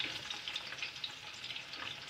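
Green chilies and onion sauteing in a hot pan for mushroom biryani, a steady soft sizzle and crackle with faint stirring, quiet and close with no talk.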